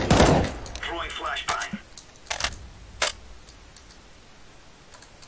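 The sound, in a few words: flashbang grenade thrown in Counter-Strike: Global Offensive video game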